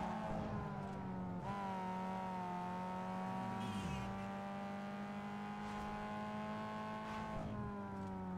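Simulated car engine from the 2004 racing game Need for Speed Underground 2, a continuous high revving whine that drops and climbs again through several gear shifts, loud and alone with no talk.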